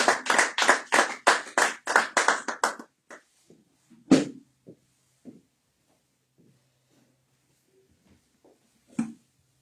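Church congregation clapping in praise, a burst of steady rhythmic handclaps lasting a few seconds, then quieting to scattered small taps and a final lone clap.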